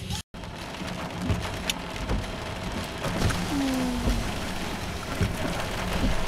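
Heavy rain pours steadily during a thunderstorm in southwestern Saskatchewan, a dense continuous hiss of drops drumming on a surface close by, with faint low rumbles beneath.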